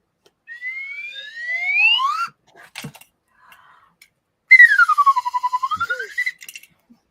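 A slide whistle blown twice, alone and close: first a smooth rising glide, then after a pause a louder fluttering tone that swoops down and climbs back up.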